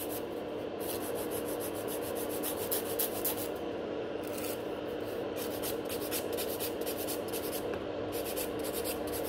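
An electric nail file works down a natural fingernail, a soft continuous rasping whir at low level with short pauses where the bit lifts off, and no voices.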